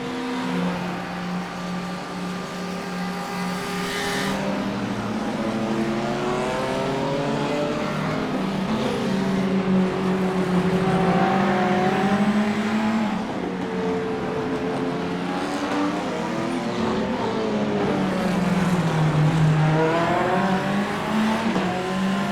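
A race car in the iRacing video game at the Le Mans 3 Hours event overtakes a slower backmarker. The engine drones loudly and continuously with rising and falling revs through gear changes, close and alone, with no voices.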